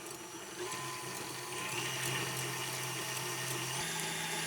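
A stand mixer with its whisk attachment runs at a steady motor whine while beating two eggs with brown sugar. The hum stays level and shifts pitch slightly partway through, and there is no talking.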